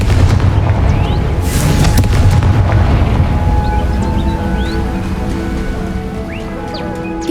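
A Confringo blasting spell explodes in the Hogwarts Legacy video game, a loud, deep booming blast that rolls and rumbles on for several seconds as the roar slowly fades with scattered crackling debris.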